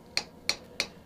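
Hot metal being hammered by a backyard blacksmith: three sharp, ringing strikes in an even rhythm about a third of a second apart, each with a short metallic decay, fairly close.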